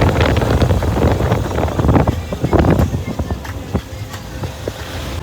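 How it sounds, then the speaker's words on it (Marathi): Strong wind buffets the microphone while riding along a highway, a loud, gusty roar with thumping low rumble that fills the clip without speech. "गाईज आता वारा बघा"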